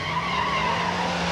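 A 1971 AMC Javelin muscle car launches at a drag strip, a loud steady engine roar with screeching tires holding a rising whine, heard up close.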